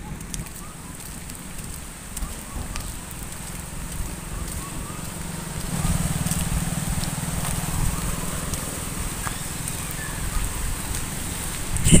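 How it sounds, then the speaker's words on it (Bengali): Light rain falls outdoors near a shop while a strong wind blows, making a steady washing noise with a low rumble that swells partway through. "বৃষ্টি পড়ছে মোটামুটি, এখন হালকা ফুলকা বৃষ্টি আছে"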